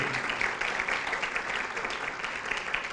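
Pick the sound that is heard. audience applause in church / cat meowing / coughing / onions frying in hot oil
audience applause in church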